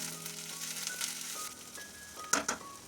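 Onion sizzling in hot oil with ginger-garlic paste and chili powder, a faint, steady frying hiss with a few brief stirring clinks near the end and no voices.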